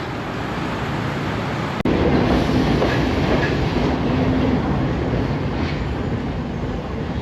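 A train rolls through Kais railway station on a coastal line, a steady wheel-and-rail rumble with faint clatter and one sharp click early on, heard up close without voices.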